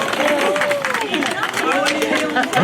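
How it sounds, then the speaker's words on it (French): An audience claps and cheers at a canine harness and dog-sled harmony event in Saint-Dizier. The applause is steady and mixed with crowd chatter, and a voice carries over it. "Oui, applaudissez à Mélanie"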